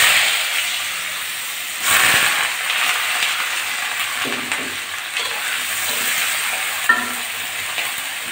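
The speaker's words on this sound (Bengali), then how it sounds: "আলুটা একটু ভেজে নিয়েছি" Thinly cut potatoes frying lightly in a pan for a greens stir-fry, a close, steady hiss and sizzle with occasional stirring clatter and no talking.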